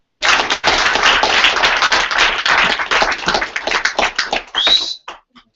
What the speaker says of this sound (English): For you, Mark, round of applause.